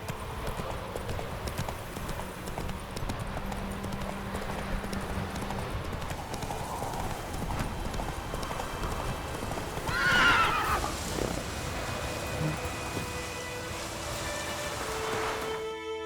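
Geralt's horse Roach gallops in The Witcher 3: Wild Hunt, steady drumming hoofbeats throughout with one loud neigh rising near the middle, set against an outdoor ambience.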